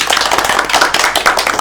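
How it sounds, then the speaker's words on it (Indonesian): A class of students in a microteaching lesson claps their hands together, giving a dense burst of close, loud, rapid claps that lasts under two seconds. "Betul, semua tepuk tangan dong."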